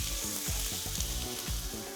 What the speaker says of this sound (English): We've got our burger patties almost finished, bacon cooking away